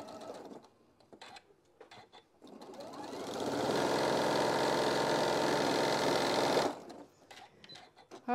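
A sewing machine runs in one steady burst for about four seconds, stitching close and fairly loud, with quieter handling clicks and taps before and after as the flywheel is turned and the needle dropped by hand.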